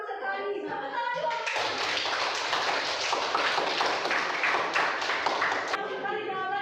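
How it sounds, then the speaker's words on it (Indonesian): A classroom of students claps together in a brisk burst of close, busy clapping, with voices before and after it. "Tepuk tangan dulu."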